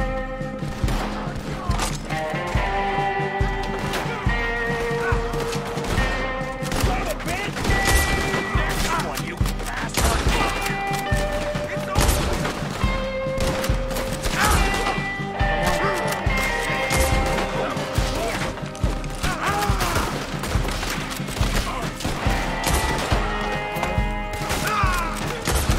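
Bolt-action rifle shots ring out in Red Dead Redemption 2, mixed into dense, busy game sound with repeated sharp bangs and constant clatter, while a voice talks over it.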